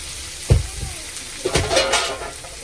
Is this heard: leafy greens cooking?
yes